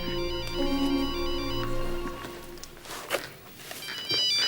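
A mobile phone left lying on a table rings with a repeating electronic tone, steady and moderately close, while faint footsteps and movement sound in the room.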